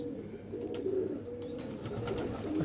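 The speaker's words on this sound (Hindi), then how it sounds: "हाथ से मेरे फिसल रहा है कबूतर।" A domestic pigeon held in the hand gives soft low coos over faint rustling and handling noise, fairly close and quiet.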